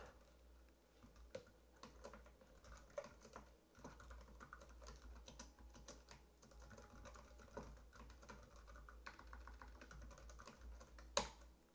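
Steady keyboard typing, a run of quick irregular key clicks with a few sharper louder taps, close by with no talking.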